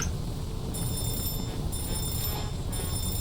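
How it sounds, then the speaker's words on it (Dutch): A fire alarm rings aboard a yacht in the Voodoo Detective adventure game, with steady bell-like ringing in regular bursts over a constant loud background hum. "Het brandalarm gaat af ook."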